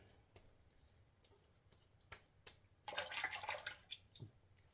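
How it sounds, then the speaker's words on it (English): After a shave with a Parker 87R razor, water is splashed over the face, a faint close-up burst of wet splashing and dribbling amid scattered small drips and clicks in a quiet room. "let's rinse the face again"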